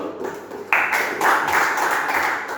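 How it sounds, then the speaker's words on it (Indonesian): A classroom of students claps together in a short, loud burst that swells after a quiet start, with a few voices mixed in. "Tepuk tangan dulu."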